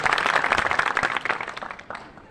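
Audience applause at a college annual prize distribution function, a burst of many hands clapping that swells and then tapers off, with no speech over it.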